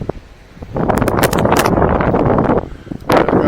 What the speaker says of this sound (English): It's going to be windy up here